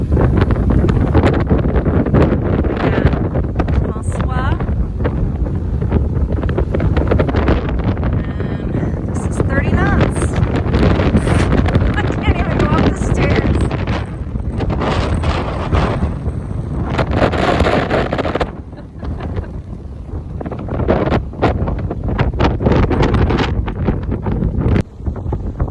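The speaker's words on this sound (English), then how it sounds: "you get 30-knot katabatic winds off the land" Strong, constant 30-knot katabatic wind off the land buffets the microphone on a sailboat at anchor in Croatia, a steady broadband roar, gusting throughout, with voices partly audible beneath it.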